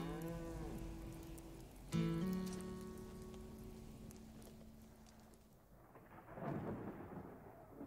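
Cattle moo with long low calls early on, then a deep rumble like distant thunder builds toward the end as a storm approaches on a windy high mountain, under steady outdoor noise.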